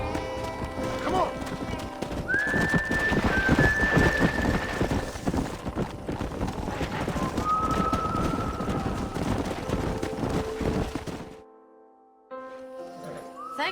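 Horses in the game Red Dead Redemption clop along in steady, close hoofbeats with a couple of whinnies rising over the galloping, which cuts out abruptly near the end.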